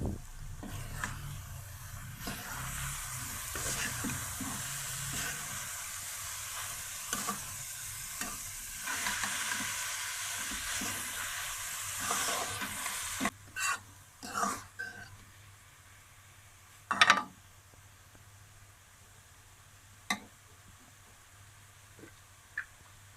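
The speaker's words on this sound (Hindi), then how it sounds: "अब इसमें बंद गोभी शामिल करेंगे और इसे मिक्स करेंगे" Shredded cabbage is stirred into macaroni frying in a pan, a soft continuous sizzle under scraping spoon strokes, later giving way to quieter pauses and a few sharp knocks.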